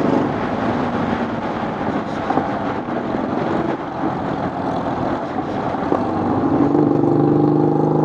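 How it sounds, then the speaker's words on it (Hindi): A Harley-Davidson motorcycle engine rumbles past on a road, a steady loud drone that swells slightly toward the end, with no talking over it. "क्या बाइक जा रही है, ये हार्ले डेविडसन की बाइक देखिए"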